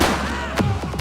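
Two or three sharp gunshots ring out on a city street in the police video game The Precinct, each a loud crack with a short echoing tail, spaced unevenly over a low background rumble.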